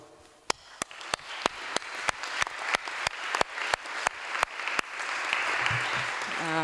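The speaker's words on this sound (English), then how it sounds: "And I want to give them some applause." A crowd claps together, starting with sharp spaced claps that build into a steady, dense round of applause.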